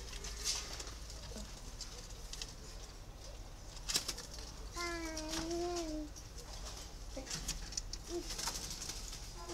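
A large pet turtle dove gives a single soft cooing call against steady background noise and scattered clicks and taps, the coo rising and falling briefly in the middle of an otherwise quiet stretch.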